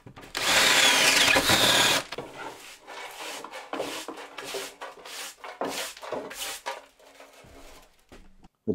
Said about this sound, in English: I have a 19mm auger bit, and I'm just going to drill down on all those marks I've made.